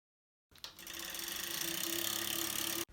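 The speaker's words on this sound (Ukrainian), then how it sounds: "Цей звук був через те, що дріт від процесорного вентилятора зачіпався за корпусний вентилятор" A newly built PC running with its CPU fan wire catching on the case fan, giving a steady mechanical buzzing rattle that starts abruptly and holds at an even level for over two seconds before cutting off.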